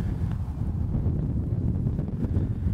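Strong wind buffets the microphone on a golf course, a steady low roar with gusty rumble filling the whole stretch and no voices.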